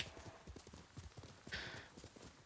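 Rapid rhythmic clip-clop of a horse galloping in the video game Ghost of Tsushima, steady hoofbeats close and fairly loud, with a brief hissing burst partway through.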